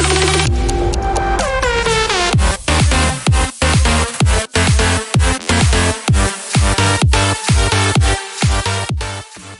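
A meme song remix in future bounce style made in FL Studio: a rising synth build drops into punchy rhythmic pitch-bending bass stabs with pumping pauses, loud and upfront.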